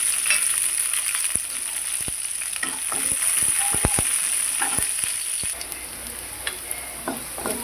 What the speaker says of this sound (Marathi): तेल तापले त्यात आपण टाकूया मिरची.